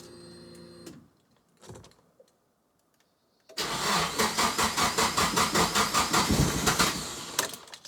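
A Nissan S15 Silvia engine, fresh from a fuel system upgrade, cranks over loudly with a fast, steady rhythmic churn lasting several seconds after a short electric whir and quiet pause, with no voices present.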